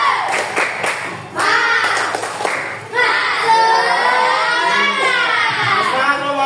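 A classroom of children claps a rhythmic spirit clap together, bursts of hand claps mixing with shouting young voices and a teacher's speech.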